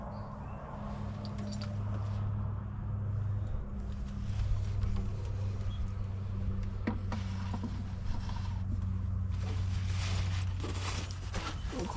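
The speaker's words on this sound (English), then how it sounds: "got my little 12-volt pump." A small 12-volt pump runs steadily throughout, filling hydraulic jack oil on a motorhome leveling system, a constant low motor hum with some background clatter and movement.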